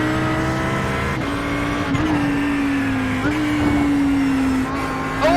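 Audi GT3 race car in iRacing at Watkins Glen, a steady loud engine drone with pitch rising and falling through gear shifts and a brief near-spin, with faint tire noise and a voice under it.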